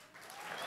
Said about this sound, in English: let's give a round of applause and welcome Lily DeBell from Lily Leg Warmer